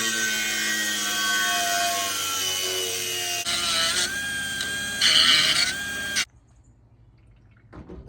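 A saw cuts a notch in wood with fast, rasping back-and-forth strokes, loud and close. The cutting runs for about six seconds, then stops abruptly and leaves near silence broken by a couple of light knocks.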